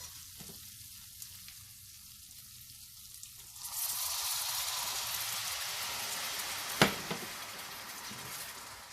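Green chilies frying in oil in a pan with tamarind pulp added for Hyderabadi mirchi ka salan; a soft, steady sizzle swells into louder, continuous frying with a brief clink partway through, no voices.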